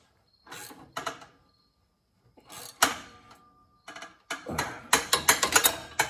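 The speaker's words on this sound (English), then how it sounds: "apparently the bolts are loose. So what I gotta do now is tighten them up" A socket ratchet tightens loose catalytic converter gasket bolts under a car, giving quick bursts of close metallic clicking separated by pauses and ending in a fast run of clicks.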